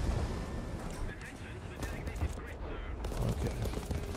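Gunfire from a Sherman tank in a World War II tank video game, heavy bursts of shots and rumbling battle noise running continuously throughout.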